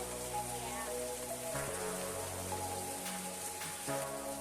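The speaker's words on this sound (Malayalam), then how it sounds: "കണ്ടോ മഴ" Steady rain falls outdoors near a cooking fire where chicken kebab skewers are being prepared, a dense continuous patter throughout with a few brief tonal sounds but no talking.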